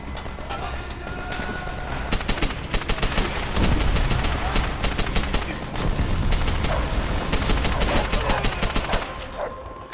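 Gunfire in World at War: dense bursts of rifle and machine-gun shots crack loudly and repeatedly, layered over battle noise, with brief lulls between volleys.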